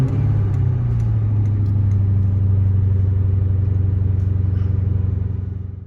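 A 2003 Ford Mustang Mach 1 with a shaker hood cruising, its engine a steady, loud, deep rumble that holds even and close throughout before easing off slightly at the end.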